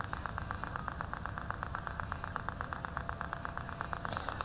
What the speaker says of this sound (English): can probably hear the motor increasing in speed